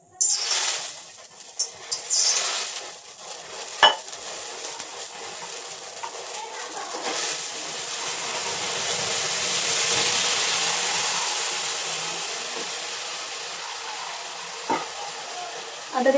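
Water splashing into a hot kadhai, with a sharp burst of hiss and sizzle that settles into a long, steady steaming fizz, close and moderately loud, with a few faint clinks and no talk.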